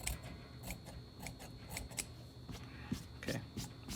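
Scissors snip away excess fusing along the edges of fabric for a double welt pocket, a series of light, crisp clicks at an irregular pace, close and fairly quiet, with no voices.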